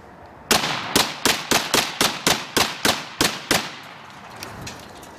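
Remington model 1100 shotgun firing eleven shots in quick succession, each a sharp loud blast at a steady rapid rhythm, followed by fading echo and quiet.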